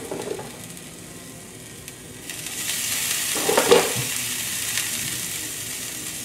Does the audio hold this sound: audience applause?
no